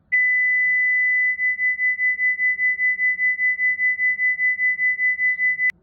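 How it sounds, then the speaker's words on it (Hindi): Two sine tones at 2000 Hz and 2005 Hz sound together. After a smooth start, the combined tone throbs in a regular rapid wah-wah pulsing of loudness for several seconds, ending with a click. "अब मैं दोनों को एक साथ प्ले करता हूं"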